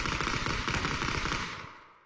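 Rapid automatic gunfire in a multiplayer shooter video game, a dense sustained burst of shots that holds loud for over a second and then tails off, with no talk over it.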